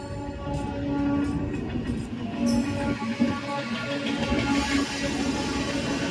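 A local train from Howrah to Puri rumbles and clatters along steadily, with faint metallic squeals and a brief hiss partway through, no speech.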